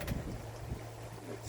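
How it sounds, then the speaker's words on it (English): Wind blowing on a boat travelling the Rideau Canal early in the morning, a steady close rumble of wind buffeting over a low engine-like hum, with no talking. "Headwind as well. It's going to be all day, southwest wind."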